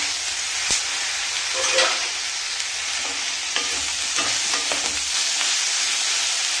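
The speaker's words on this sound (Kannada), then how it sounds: "ಸೊ ಇವಾಗ ನಾವು ಈ ಕೊತ್ತಂಬರಿ ಸೊಪ್ಪು ಮತ್ತು ಈ ಟೊಮೆಟೊನ ಹಾಕೋಣ." Coriander leaves and chopped tomato going into a hot pan for a Karnataka-style avarekalu saaru, with a steady sizzle and frying hiss under repeated spoon-stirring scrapes and clinks, fairly close and even throughout.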